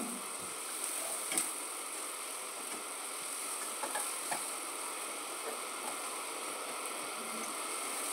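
Black cumin, spices and pumpkin peels frying in a pan with turmeric and salt: a continuous soft, hissing sizzle with occasional small clicks and pops.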